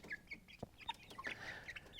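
Chickens and roosters in a farm flock cluck and squawk nearby, a quiet, irregular chatter of short calls overlapping one another.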